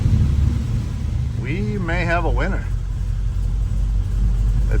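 A car engine idling steadily after being started, a low continuous rumble throughout, with a brief voice speaking over it partway through.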